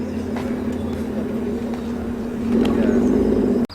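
A Caterham sports car approaches along the road at a busy Cars and Caffeine breakfast meet at Combermere, its engine a steady raucous drone that swells louder near the end before cutting off abruptly.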